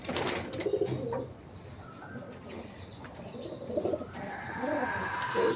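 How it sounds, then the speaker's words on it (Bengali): Racing pigeons, including a leg-ringed loft bird numbered 79, coo in low repeated burrs amid a busy loft with faint wing flutters and background bustle. "এই যে 79 নাম্বার পাল্লা খেলা কবুতর।"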